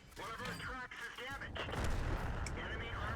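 Tank cannon fire in World of Tanks: a heavy in-game boom and rumbling blast fill the second half, with someone talking over the game sounds at the start.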